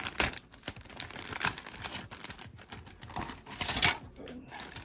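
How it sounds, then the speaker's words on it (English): Tape being sliced and peeled away from the packaging of a G.I. Joe Night Force Night Boomer combat jet toy, giving close crinkling, tearing and scraping sounds in irregular bursts, the loudest near the end. "We gotta cut this out because it's taped down on the inside."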